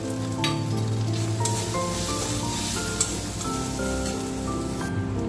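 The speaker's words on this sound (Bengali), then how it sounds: "এরপরে দিয়ে দেবো ওপর থেকে একটু হলুদ।" Spices sizzle steadily in a small amount of hot oil as turmeric goes in for dal chorchori, a close, constant crackling fry with soft stirring and occasional sharper pops, and no talking.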